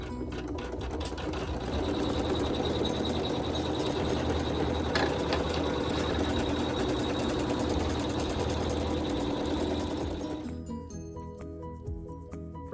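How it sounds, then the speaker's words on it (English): An embroidery machine stitches a satin cover stitch, steady and close with a dense mechanical whir, then stops about two seconds before the end, leaving a quieter tail. "you're going to sew the satin cover stitch"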